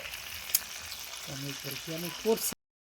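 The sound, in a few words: tandoori chicken pieces frying in a pan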